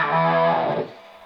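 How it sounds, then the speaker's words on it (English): A short burst of heavily distorted, synth-like guitar tone rings out loud and buzzy, then cuts off and fades quickly. "this setting right here, which is a distortion, a guitar synth sound"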